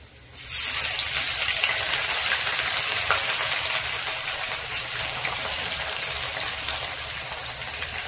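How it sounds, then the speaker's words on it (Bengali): Sliced onions hit hot oil for dhaba-style mutton and set off a loud, close, continuous sizzle. It starts abruptly and holds steady for the full length without talk. "এবার দিয়ে দেব পেঁয়াজগুলো।"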